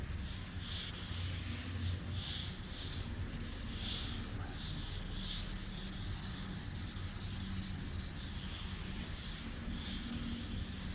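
Wet sanding on the paint of a Z28: a steady, close rasping scrub with regular back-and-forth strokes roughly twice a second, continuous and unbroken.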